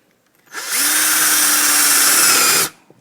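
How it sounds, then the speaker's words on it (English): A power drill with a spade bit whines up and runs steadily for about two seconds, boring through a rotted window sill with a loud, even drone, then stops abruptly. "I'm going to drill all the way through"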